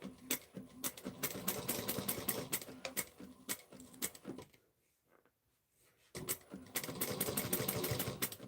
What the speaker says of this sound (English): I'm going to back stitch over the pleats again.